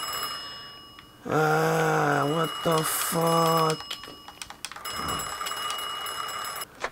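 A phone rings with a synthetic ringtone of repeated harmonic tone bursts, loud and close, in a quiet room; a voice speaks briefly afterward.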